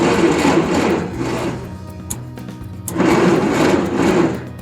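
The engine of a tractor abandoned for 30 years cranks over on the starter in two loud bursts of rapid whirring and chugging, with a short pause and a click between them and no talk.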